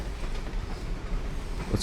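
Rumbling train ride in Bendy and the Dark Revival, a steady low rolling drone with faint clatter throughout, fairly close and continuous.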